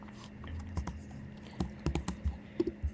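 Typing on a computer keyboard during a coding tutorial: a quiet run of soft clustered keystrokes, a few isolated taps at first, then quicker bunches of clicks close to the microphone, with no speech.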